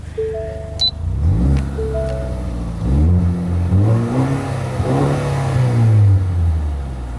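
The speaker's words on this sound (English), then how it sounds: "do a few revs here" A loud, raspy 2013 Ford Fusion Titanium engine with a muffler delete revs up and down several times in quick succession, close by, each burst rising in pitch before dropping back to idle.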